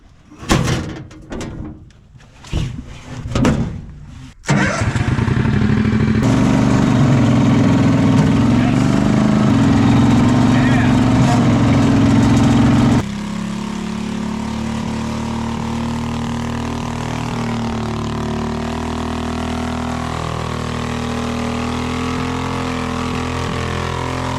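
The engine of a homemade mini tank with tracks starts after a few clunks and bangs, then runs at a steady loud idle with a continuous low drone that drops to a slightly lower, quieter level partway through.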